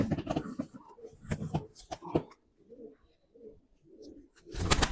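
Pigeons, including a red-breasted bird, coo in soft, rhythmic repeated phrases close by after a stretch of noisy bustle, with a brief rustle at the end.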